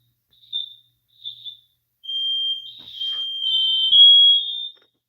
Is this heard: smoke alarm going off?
yes